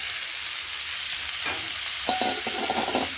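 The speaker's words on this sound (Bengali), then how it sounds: "এই বেগুন ভাজার কড়াইতে দিয়ে দেবো ফুলকপি," Cauliflower frying in a wok still oily from fried eggplant: a steady close sizzle, with scraping stirs from about halfway through, several quick strokes near the end.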